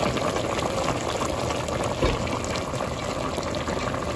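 Water running and bubbling out of a pot with its lid opened while cooking stewed hare, a steady liquid wash heard close and alone.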